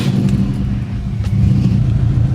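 A car engine runs at a steady idle after starting up, its low rumble loud and continuous with no talking, during cleaning of the idle air control valve.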